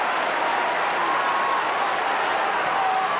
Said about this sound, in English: A large crowd appreciating the efforts.